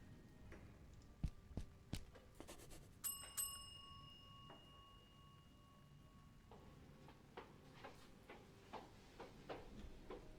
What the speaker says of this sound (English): let's just ring the bell